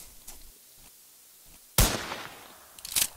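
Gunshots hitting a laptop in a Call of Duty game, a sharp loud crack with a ringing tail after quiet low thuds, then a second burst of shots near the end, with no talking.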